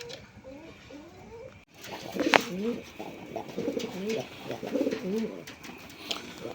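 Tiger Grizzle and mini king pigeons coo in a steady, rhythmic run of low throaty calls, close by, with one sharp brief noise partway through and faint background murmur.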